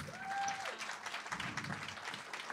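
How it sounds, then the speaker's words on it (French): A live audience claps through a podcast Christmas party recorded in Québec, a dense, steady round of applause with a brief tonal whistle near the start. "J'aimerais vraiment qu'on applaudisse Extra Multiressources, tout le monde."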